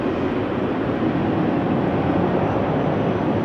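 A Lufthansa Airbus A320 bound for Frankfurt lines up on a rainy runway at Amsterdam Schiphol, heard as a steady, broad jet rumble and hiss holding at a constant loudness without pause.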